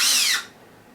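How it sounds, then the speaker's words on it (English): A power drill spins a 1/16 inch bit through a small hole in a stick, giving a bright, loud whine that falls in pitch and stops after under half a second. "I've got a 1/16 inch drill bit. I'm going to drill a hole right there."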